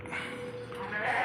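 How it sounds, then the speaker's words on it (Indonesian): Goats bleating in a goat farmer's pen, a short nasal cry rising over steady barn noise, with a voice talking nearby. "Waduh, ini mah kandangnya juga hebat, banyak juga ini rupanya kambingnya."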